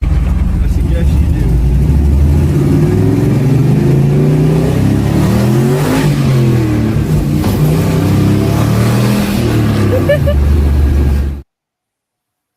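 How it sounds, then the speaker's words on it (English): A turbocharged Pontiac with a manual gearbox revs and accelerates loudly, its engine note rising and falling through several pulls for about eleven seconds before cutting off, with people talking over it. "You've never driven a turbo manual car?"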